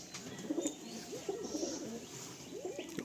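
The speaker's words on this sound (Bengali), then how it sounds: "সবুজ পায়রা আছে" A green pigeon at a pigeon seller's stall in Kolkata gives low, rolling coos in several bursts, close and moderately clear against a quiet background.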